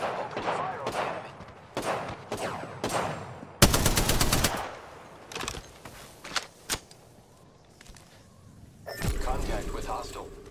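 Rapid automatic gunfire bursts from the battle royale shooter Apex Legends, several loud close volleys with pauses between, a sustained heavy burst in the middle and another near the end, with voice chatter in places.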